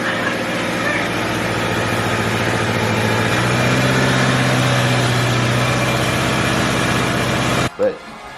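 The engine of a 2012 Subaru idles with a steady, close, broadband drone for several seconds, then cuts off abruptly and leaves a brief clunk and a quieter background.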